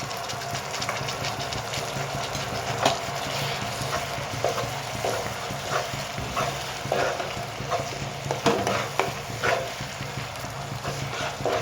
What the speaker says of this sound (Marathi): आणि आपल्याला हे सर्व चांगलं व्यवस्थित भाजून घ्यायचं, शिजवून घ्यायचा.